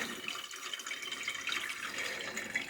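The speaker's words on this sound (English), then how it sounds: "we're going to pour it here into our fat separator" Turkey stock pours in a steady, close liquid stream into a fat separator in a kitchen, a continuous splashing trickle with no talk.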